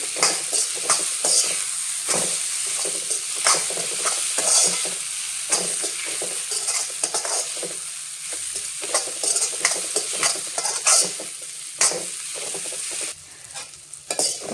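Sprouted moth beans being stirred into a thick gravy in a hot pan: a close, steady sizzle with repeated scraping strokes of the spoon, continuous throughout and with no voices.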